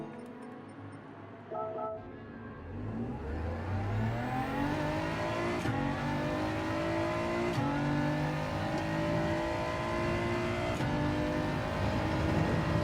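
A BMW race car in the Gran Turismo 7 video game revs hard, its engine pitch climbing steadily through the gears in a loud, continuous roar with no talking.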